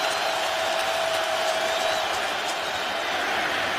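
Football stadium crowd at a Browns–Ravens NFL game in Baltimore, cheering and roaring steadily on a third down, a dense sustained wall of noise with scattered whoops and whistles, no talk over it.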